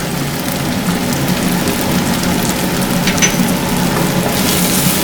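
Garlic and capsicum sauté in a pan for pepper idly, making a close, steady crackling sizzle that runs continuously with no talking.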